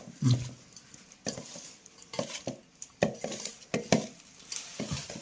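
Fish pieces being mixed by hand with chili powder and salt in a bowl, giving soft irregular squelching and scraping strokes with light clinks of a dish, close by and without talk.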